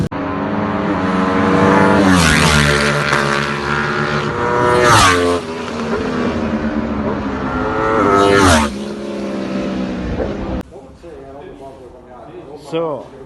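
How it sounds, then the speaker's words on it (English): A Trophy 660 prototype race motorcycle with a full race exhaust and quickshifter, ridden hard: loud, close engine howl climbing and dropping through repeated rev sweeps and gear changes, then easing to a quieter, rougher note. "about to head out on the Trophy 660 bike"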